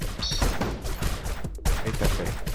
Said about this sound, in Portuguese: Tiro, tiro.